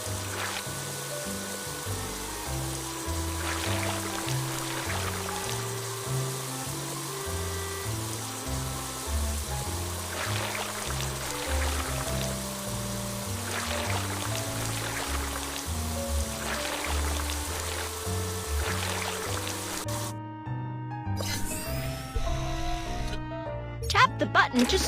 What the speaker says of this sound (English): First, drag the water sprayer to rinse off the mud.